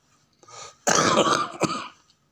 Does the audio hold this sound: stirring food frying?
no